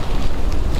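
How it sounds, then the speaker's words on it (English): Hurricane Helene in north Georgia sends a loud, steady roar of wind buffeting the microphone outdoors, a dense rushing wash with rain mixed in, no voices. "kind of experiencing the different wind gusts that have been coming through, but also experiencing the rain as well"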